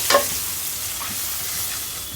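Onion and spices (cumin, coriander, turmeric, chili, salt) fry in oil with a continuous hissing sizzle, opening with a short scrape or clink of a spoon in the pan.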